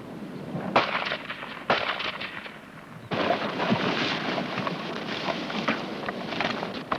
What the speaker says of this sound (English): you can't go taking cover every time a couple of stray rounds go over